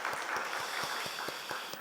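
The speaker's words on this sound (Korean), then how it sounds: "오늘 찬양단 우리 축복의 박수 드립시다" A church congregation at a late-night prayer meeting applauds the worship team, a steady wash of clapping with faint rhythmic claps standing out, close and moderately loud throughout.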